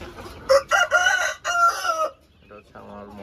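A rooster crows loudly and close by in a long drawn-out call, then chickens cluck briefly on a poultry farm of mixed breeds including Sarail crosses and hill hens. No one talks.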